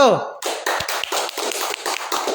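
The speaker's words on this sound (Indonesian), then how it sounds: "kita berikan aplaus untuk kelompok 1" Applause for the presenting group follows a brief voice, a burst of hand clapping from a small audience, close and fairly loud, with quick uneven claps going on for about two seconds.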